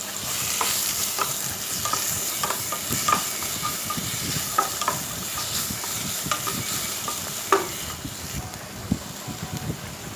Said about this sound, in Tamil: ஆயில் ஹீட் ஆனதும் ஒரு வெங்காயம் கட் பண்ணிவிட்டு அதில் ஆட் பண்ணுறேன்.